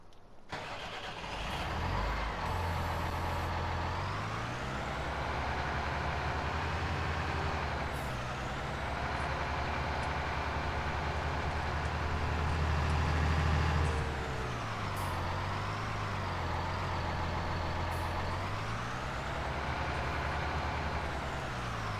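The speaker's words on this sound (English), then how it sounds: "I'll just park that truck there for the time being." A truck engine in Farming Simulator 19 on PS4 rumbles close and steady while being parked, its pitch rising and falling as it revs and slows, with brief hissing air-brake releases.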